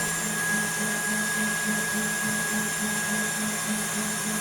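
Electric hand mixer whipping egg whites with sugar for tiramisu, a continuous steady motor whir with a faint rhythmic beat, close and unbroken throughout, no talking.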